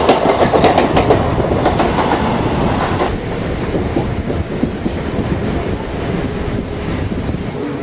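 A Mumbai train rumbles along with a loud, steady roar and rhythmic clickety-clack of wheels on rails, heard up close from on board, with wind buffeting the microphone.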